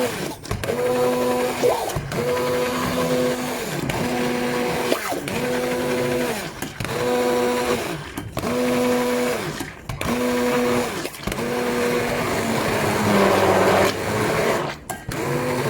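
An electric blender grinding liver for a layered liver cake runs in loud, rhythmic pulsing cycles about every two seconds, a steady whirring motor close by with short breaks between pulses.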